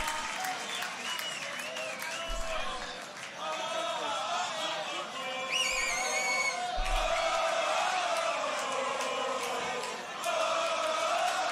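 A large live audience at the Grand Beatbox Battle 2019 tag team semi-final roars, claps and whoops in sustained waves, loud and close, with shouts rising above the applause.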